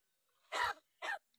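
Two short, harsh cough-like bursts, the first longer than the second, a talking crow mimicking a human cough close by in quiet surroundings.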